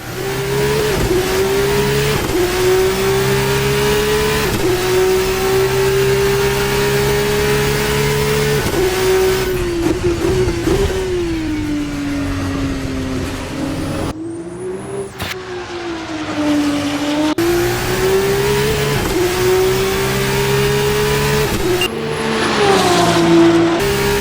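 A high-pitched formula race car engine in Assetto Corsa screams continuously, rising and falling as it revs through gear shifts, loud and close with no talking.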